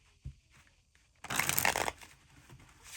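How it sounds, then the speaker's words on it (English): A new tarot card deck, still slightly stiff, is bridge shuffled: a quiet riffle burst of cards lasting under a second, followed by a soft tap as the deck settles. "I am a bridge shuffler."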